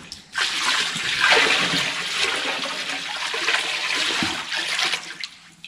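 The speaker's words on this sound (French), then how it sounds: "j'ai plus qu'à mettre mon seau où j'ai préparé mon cuivre avec du vin, j'ai plus qu'à le mettre dans la cuve" A bucket of copper-treated wine is poured into a winery vat, making a sustained, close, rushing splash of liquid that fades off at the end.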